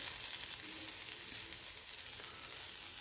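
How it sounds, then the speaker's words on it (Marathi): Steady, fine sizzling of homemade butter on a hot griddle over a gas flame, a continuous hiss with no voices. "इकडे गॅसवरती आपण हा तवा ठेवलेला आहे आणि याला असं बटर लावून घ्यायचं"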